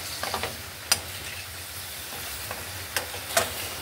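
Boiled vegetables fry in a little oil with a faint, steady sizzle, broken by a few sharp clicks and scrapes of stirring.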